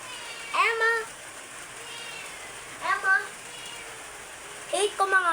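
A domestic cat meows three times, each call short and rising, separated by pauses and heard fairly close over a quiet background hiss.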